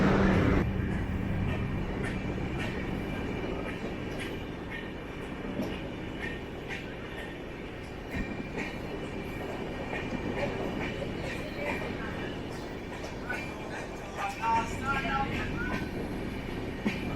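Onboard a Humsafar coach of the 12686 Chennai Superfast train leaving Kasaragod, a steady rolling rumble with faint rhythmic wheel clicks throughout and occasional voices in the background.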